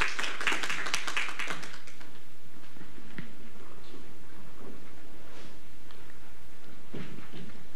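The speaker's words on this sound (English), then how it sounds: "Let's a round of applause for the moderator of this session" Audience applause for the session moderator at a conference, scattered claps strongest at the start, then fading to sparse taps and faint room noise.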